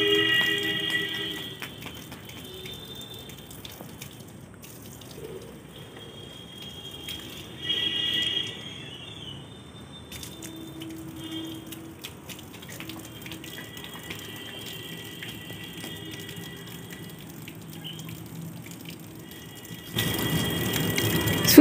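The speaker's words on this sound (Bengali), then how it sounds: "গাছেতে জল দিয়ে দিচ্ছে" A child waters garden plants, producing a steady, soft stream of pouring and splashing water that runs for most of the time and gets louder near the end, with no voices.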